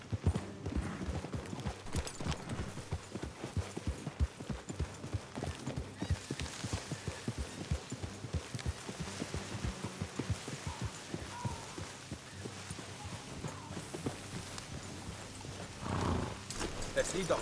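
Horse hooves clip-clop steadily on a road as riders travel together in Red Dead Redemption 2, a rhythmic beat under spoken dialogue and background game ambience.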